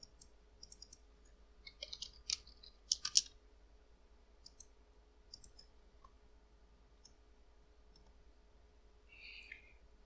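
Several crisp, quiet mouse clicks in Inkscape while locking a template layer with the padlock icon, a small cluster of sharp ticks around the two-to-three-second mark with a few fainter clicks later over a low steady hum.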